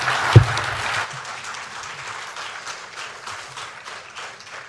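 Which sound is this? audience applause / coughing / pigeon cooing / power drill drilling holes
audience applause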